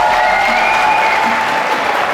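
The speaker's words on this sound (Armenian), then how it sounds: "Հիմա թող ծափեր տան հարցիկի կողմը։" Audience applause from one side of a crowd at a lively Yerevan event, a dense, loud wash of clapping sustained throughout.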